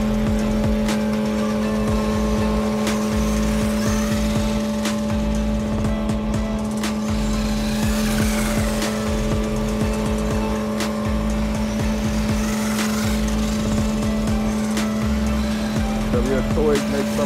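A WLtoys 12428 RC truck runs over rough, cracked pavement at night, its electric motor whining steadily with rattling, bumping suspension and tire noise throughout, close and fairly loud, with a person talking over it.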